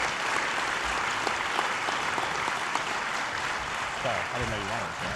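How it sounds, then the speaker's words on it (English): A hall full of people applauds teachers at a high school senior award ceremony, dense and sustained clapping throughout, with a voice speaking briefly near the end over the applause. "Let's give them a big round of applause."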